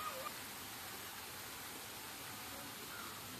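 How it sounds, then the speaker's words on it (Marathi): Small garden waterfall at the Okayama Friendship Garden in Pune, a steady, faint broadband rush of falling water that holds evenly throughout with no talking. "धबधब्याचा आवाज पण असा मोठा होता, छोटा जरी धबधबा असला तरी."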